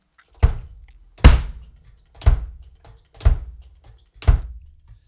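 Five deep, booming kick drum hits land about once a second, each struck alone with a short pause between.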